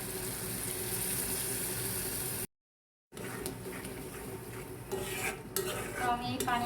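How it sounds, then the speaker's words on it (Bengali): Coconut prawn masala being stir-fried in a pan with a little water, a steady scraping and sizzling that breaks off briefly, then returns with clinks of a spatula against the pan. "তো আমি একবার কষিয়েছি, আবারও কষিয়ে নিচ্ছি।"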